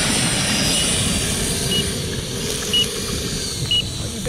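An E-Flite Viper 70mm electric ducted fan jet model plane roars past on its maiden flight, a loud continuous whooshing whine that fills the clip, with a few brief electronic beeps near the end.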